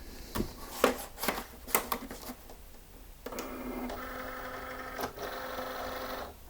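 A Cricut cutting machine running a calibration test cut on a light grip mat, with a few clicks and taps followed by a steady, quiet motorized whirring and buzzing up close.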